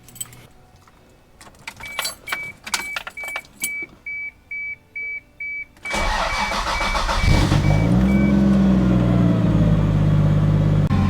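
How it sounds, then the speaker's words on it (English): Keys jingle, and a chime beeps repeatedly inside a 1990s Japanese project car before the engine cranks and catches, settling into a loud, steady idle close by. "Let's hop in it and go for a drive."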